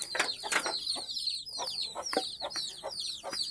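Several native chickens on a farm cluck and squawk close by in quick, irregular bursts, with a few higher calls overlapping, no talking.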